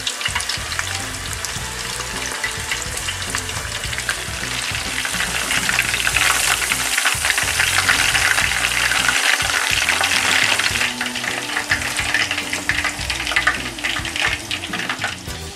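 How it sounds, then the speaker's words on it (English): Pieces of chicken karaage deep fry in oil at about 320 Fahrenheit, making a loud, continuous bubbling sizzle that swells midway and stays dense throughout, with no voices. "Deep fry until golden brown."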